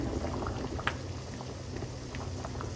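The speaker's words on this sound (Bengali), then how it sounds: "এখানে সিমের বীজটা রান্না করে ফেলছি। এখন পাতা দিলাম।" Bean seeds and leaves bubble in a pot at a steady boil, a close, continuous simmering hiss dotted with small pops and gurgles, with no talk over it.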